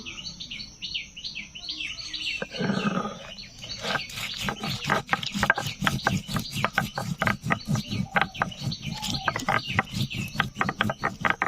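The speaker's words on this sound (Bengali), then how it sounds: "এরকম ভাবে শিলনোড়ায় বাটা" Whole cumin, coriander and dried chilli with water are ground on a shil-nora grinding stone in a village kitchen, producing steady, rapid rhythmic scraping strokes close by, with faint bird chirps in the background.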